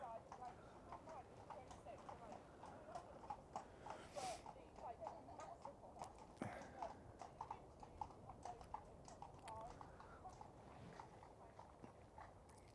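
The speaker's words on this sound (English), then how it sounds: "Clippity clop of the hooves." Horse riders pass through a graveyard, their horses' hooves clip-clopping in a steady, rhythmic patter of moderately close hoofbeats, with people talking faintly underneath.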